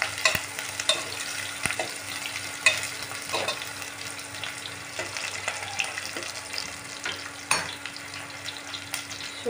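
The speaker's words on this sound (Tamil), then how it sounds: "ஆட் பண்ணிவிட்டு ஆனியன் நல்லா ஃப்ரை ஆகட்டும்." Onion and green chillies fry in a pan with a quiet, continuous sizzle, while a spatula scrapes and clicks irregularly and close by, and nobody speaks.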